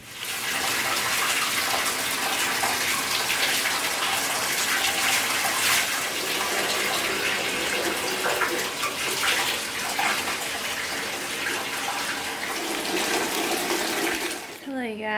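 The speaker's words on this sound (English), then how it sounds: "let's get this bath started." Water gushes steadily from a tap into a bathtub, a loud, close, continuous splashing rush that stops abruptly near the end.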